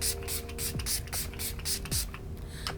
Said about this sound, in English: Let me get some setting spray.